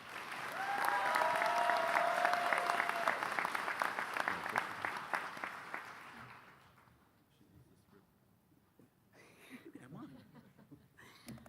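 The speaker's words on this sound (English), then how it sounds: "If everyone can please give a warm round of applause for Jessica." A crowd at a college commencement ceremony gives warm applause, dense clapping that swells loudly for several seconds and then fades out, followed by quieter room noise with a few faint sounds near the end.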